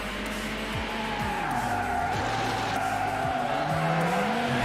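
Tires of a red BMW M5 skid and squeal as the car oversteers round a hairpin in the racing game Need for Speed Hot Pursuit 2, a continuous loud slide over steady engine drone with shifting pitch.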